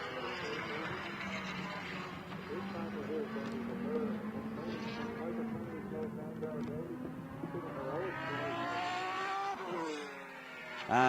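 A Formula BOSS Ireland race car's engine howls steadily, its pitch rising and falling as it rounds a corner, with a commentator talking over it throughout.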